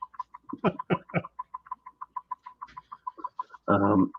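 Pet ducks, a pair, sound off in the background with a steady run of short, rhythmic calls and a louder burst near the end, while people talk over them.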